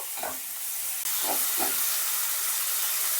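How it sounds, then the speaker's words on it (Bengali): Onions with turmeric fry lightly in a pan for moong dal, a steady hissing sizzle broken by a few soft stirring scrapes near the start. "অল্প অল্প ভাজবো, বেশি ভাজবো না, পেঁয়াজটা একটু হালকা ফ্রাই করে নেব।"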